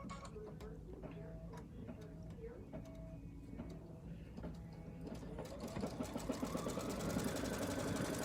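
An embroidery sewing machine stitches a center line on a bench pillow project, a steady rapid ticking and whirring that rises toward the end. Quiet background talk is heard throughout.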